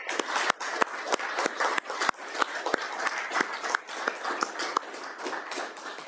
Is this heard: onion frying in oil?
no